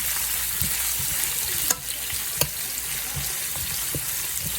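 Julienned onion and garlic frying in a pan, a steady broadband sizzle with a couple of sharp utensil taps partway through.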